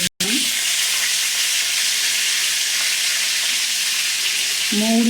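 Bay leaves, curry leaves, cardamom, cinnamon and cloves sizzle in hot oil in a wok for stuffed eggplant, a steady loud frying hiss after a brief drop at the start, with faint clinks near the end.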